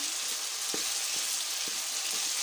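Potatoes light-frying in ghee give a steady, gentle sizzle that fills the whole stretch, with a few soft clicks of stirring and no talking.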